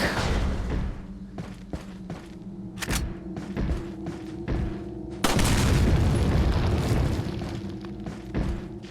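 Gunfire aimed at a lock in the Resident Evil 4 video game on PS4, a series of loud booming shots and thuds over a continuous in-game background, with no talking.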